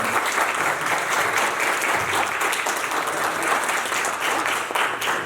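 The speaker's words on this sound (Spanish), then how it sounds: "Un aplauso, por favor." Lecture audience in a conference hall applauding at the end of a talk, a dense, loud, continuous round of clapping with no speech over it.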